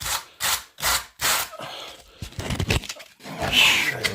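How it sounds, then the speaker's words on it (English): Plaster scenery for a slot car track is sanded by hand with 100 grit sandpaper: several rhythmic, rasping back-and-forth strokes up close, then shorter, irregular scuffing. "And I just sand it down with the sandpaper."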